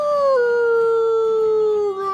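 Wolves at a wolf sanctuary howl in a loud, sustained chorus, with long sliding tones that hold steady and bend slightly downward, close to the listener with no talk.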